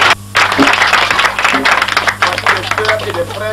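A church congregation at an opening worship service in Belleville claps in a dense, loud burst of hand claps filling the room, with voices speaking over the applause.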